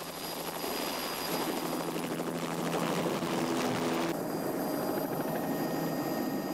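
A helicopter flies overhead with a steady, continuous rotor thrum and engine whine, moderately loud and sustained, with no one talking.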